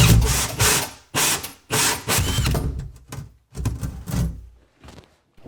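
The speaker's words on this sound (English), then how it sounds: "So now I have where I need to drill my hole. And drill it." A power drill bores a hole into a wood kitchen cabinet in several short bursts, grinding and ratcheting with brief pauses between, close and fairly loud.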